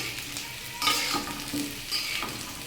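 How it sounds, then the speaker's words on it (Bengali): Potatoes and soy chunks fry in oil with a steady sizzle, while a spatula stirs them in intermittent scrapes. "আলুটা এবং সয়াবিনটা কিন্তু বেশ ভালো করে ভাজা হয়ে গেছে, তেল ছেড়ে দিয়েছে দেখুন"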